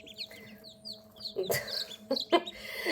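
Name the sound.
chicks peeping and clucking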